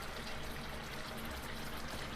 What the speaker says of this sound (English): Pour the rest of my cream.